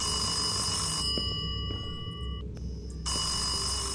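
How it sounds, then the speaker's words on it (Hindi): A telephone rings in the Kamla Indian horror video game, with a loud, steady electronic bell tone that runs through most of the clip over a low ambient rumble and breaks off briefly twice. There is no talking. "अचानक से वहाँ पर फ़ोन आया और मैं डर गया।"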